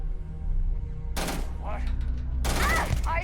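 Gunfire in the video game Starfield, two short bursts of sharp, crackling shots, close and loud over a constant low background rumble.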